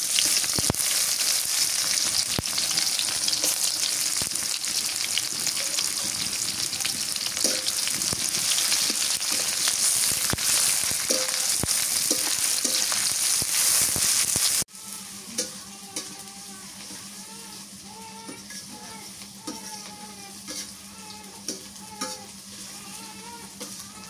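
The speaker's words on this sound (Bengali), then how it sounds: "পেঁয়াজ কুচি দিয়ে দিই" Chopped onions sizzle and fry in a pan for a beef curry, a loud, steady crackle filling the first half before dropping to a quieter sizzle with a low hum and occasional stirring clinks.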